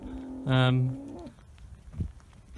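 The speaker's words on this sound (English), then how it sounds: "this is a Ellerton Double Merit out of a Ristorn cow" A dairy cow in a barn gives one loud, deep moo lasting under a second, followed by quieter shuffling and a dull knock, with no talking over it.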